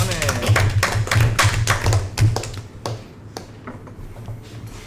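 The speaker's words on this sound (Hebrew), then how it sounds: "מחיאות כפיים ל8" A short round of light clapping at a Mastermind game session, loud and close at first with sharp hand claps, then thinning into a few scattered claps as it fades.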